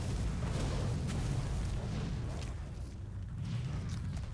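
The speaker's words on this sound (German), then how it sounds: "So viele Explosionen." Explosions in World of Warcraft: Battle for Azeroth, in the Drustvar zone, a dense low rumbling stream of booms and bursts, steady and fairly loud throughout with no clear gaps.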